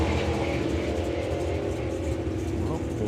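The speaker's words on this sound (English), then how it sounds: "one of the cars, you can hear the tyres chirping on down the track" Drag racing cars run down the track with a loud, continuous engine roar, while tyre chirps sit faintly within the noise and a commentator talks over it.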